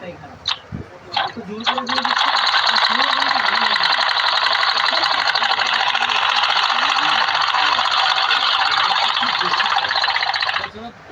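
A sewing machine runs steadily for about nine seconds, stitching small fabric pieces onto both sides of a larger panel, loud and close, with speech before it and a voice partly under the whir.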